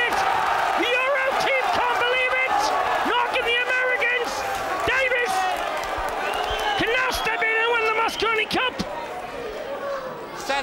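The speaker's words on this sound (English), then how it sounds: "This crowd is just going crazy." A Mosconi Cup pool crowd cheers wildly, a dense, loud roar of voices, whoops and clapping that runs continuously throughout, with commentators talking over it.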